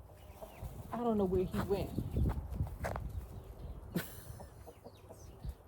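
Roosters in a suburban garden let out a few short clucks and calls amid footsteps and rustling, while someone speaks nearby.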